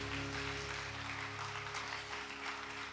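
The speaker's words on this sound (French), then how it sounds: "acclamer le Seigneur, hein?" A church congregation applauding to acclaim the Lord: a steady, faint wash of clapping from many hands over a low electrical hum, with no talking.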